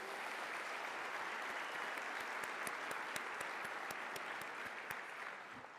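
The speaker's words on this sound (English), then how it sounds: "So how about a round of applause for all those behind the scenes?" Conference audience at a pediatric summit claps in a sustained round of applause, dense and steady throughout, heard from within the hall.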